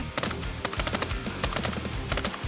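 Gunfire in the game Arena Breakout Infinite: rapid automatic bursts of shots in quick clusters, close and punchy, several volleys separated by short gaps across a couple of seconds, with no talk.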